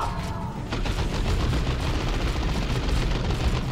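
Dense, continuous gunfire from a Dawn of War 2 battle, volleys of shots rattling without pause under a heavy low rumble of combat, loud and close throughout.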